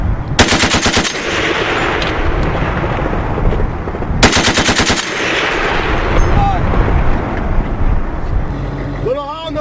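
A Browning M2 .50 caliber machine gun fires two long, loud bursts of rapid, evenly spaced shots several seconds apart, with engine rumble and voices in the background.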